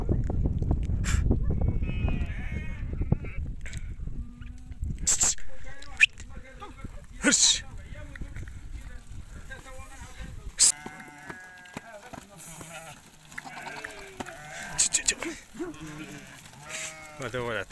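Sheep and lambs bleating on a farm, several calls spread across the scene at moderate distance, some loud and close, with people talking in between and over them.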